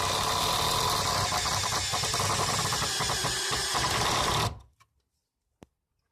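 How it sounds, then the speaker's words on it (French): A power screwdriver drives a screw at an angle through two wooden battens for a bird perch, whirring loud and steady for about four seconds, then stopping abruptly, followed by a single faint click. "nous allons visser les tasseaux en mettant une vis de travers"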